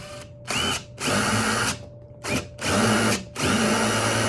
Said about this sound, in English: This coconut material is kind of hard to drill through.